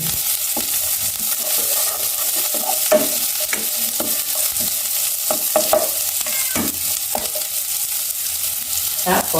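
Garlic fries in a pan for chicken wing adobo, a bright steady sizzle broken by scattered scraping stirs of a utensil against the pan, close and clear with no voices.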